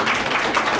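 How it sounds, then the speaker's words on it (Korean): Audience applause in a policy forum hall, a dense steady patter of many hands clapping briefly with no voices over it. "박수 한번 주시고"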